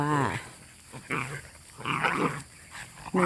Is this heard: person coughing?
no